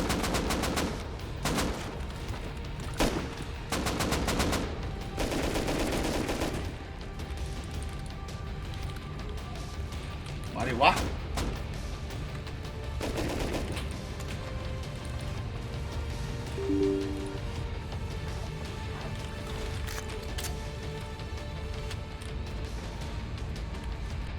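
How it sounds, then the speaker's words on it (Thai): Distant gunfire in the survival game Rust, several bursts of rapid automatic shots early on, then scattered single cracks and a louder shot midway over a low ambient bed, with no talking. "โอ้ยสองยิงอย่างไกลๆเลยอ่ะ"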